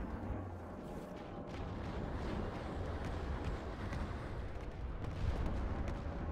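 Gunfire in a shooter video game blends into a continuous, dense battle rumble that stays steady and fairly loud throughout, with no distinct single shots standing out and no talking.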